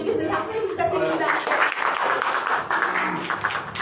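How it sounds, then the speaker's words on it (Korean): Applause rises at a mayoral candidacy press conference in Osan as a guest is welcomed, a short burst of clapping from a modest audience that follows a brief spoken introduction. "이 대표님 모시겠습니다. 박수 부탁드립니다."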